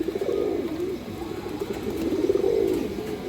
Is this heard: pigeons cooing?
yes